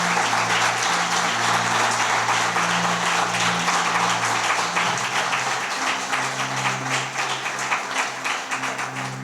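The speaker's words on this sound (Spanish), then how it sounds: "Dale un aplauso fuerte al Señor" Strong, sustained applause from a church congregation praising the Lord, many hands clapping steadily over sustained keyboard chords, gradually easing toward the end.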